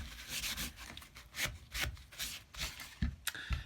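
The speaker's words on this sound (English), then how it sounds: "We're just cleaning up the wet glue." Wet glue is wiped off a wooden cigar box guitar neck in a run of short, dry rubbing strokes, close up and fairly quiet, with a couple of light knocks near the end and no talking.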